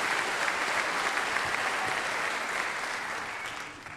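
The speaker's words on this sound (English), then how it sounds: "Can I get a round of applause for these graduates?" Spectators at a North Idaho College commencement ceremony applaud the graduating class, a loud, even roar of many hands clapping that fades slightly toward the end.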